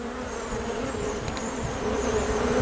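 Honey bees buzz in an open hive during an inspection, a dense, steady hum filling the space up close and continuing without pause.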